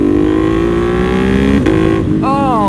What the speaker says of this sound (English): when you really get on the gas, I smell something